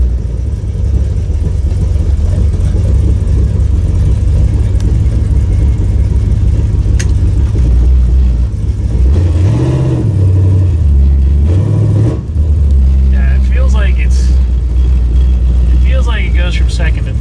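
A 1967 Pontiac Firebird with a 200-4R automatic transmission accelerates through its gears: a steady, loud, low engine drone that swells into a rev-and-settle around the middle, then holds a firm rumble.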